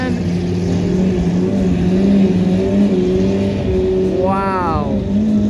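A Lamborghini Aventador engine drones loudly and steadily at Monterey Car Week, its pitch rising in a brief rev near the end amid other cars and crowd noise.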